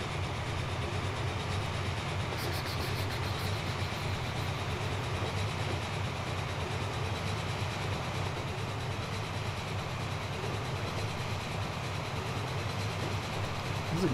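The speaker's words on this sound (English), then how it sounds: "So the train automatically knows where to go." A high-speed passenger train rumbles continuously along the tracks in the Transport Fever simulation game, a steady, even rolling drone with faint clicking, no voices.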